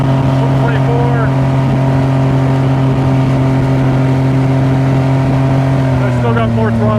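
Solar 470 Super Jet boat on its maiden voyage, engine droning steadily and loud at about 24 mph under throttle, with a pitch shift near the end as revs change; a voice talks over it.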